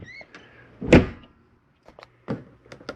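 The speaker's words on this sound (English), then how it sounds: "Go ahead and close my door." A Jayco Eagle 284BHOK RV's entry door is pulled shut with one solid thunk, surrounded by a few softer clicks and knocks from the latch and nearby handling.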